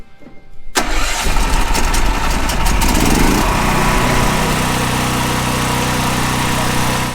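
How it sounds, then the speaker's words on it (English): A generator powering work on a new buffalo fence cranks and catches, then runs at a steady, loud, close drone for several seconds with no talking. "Start the generator and then plug that."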